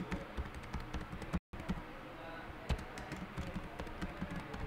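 Someone types text on a computer keyboard during an Android programming lesson. Rapid, close key clicks run almost continuously, pausing once briefly partway through, with faint background noise.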